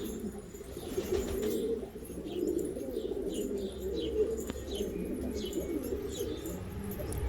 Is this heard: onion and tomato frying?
no